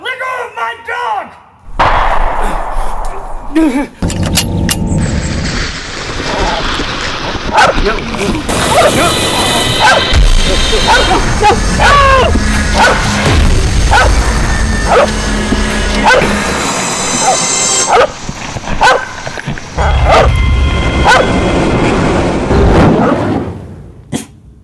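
A dog barks, yips and whimpers in agitated bursts during a tense scene, close and loud. Voices, scuffling and a slam mix in around it.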